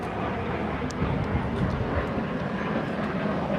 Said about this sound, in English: It's too high up to see the plane at the moment.